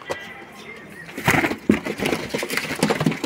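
Pigeons for sale coo and flutter close by, with bursts of wing movement and shuffling.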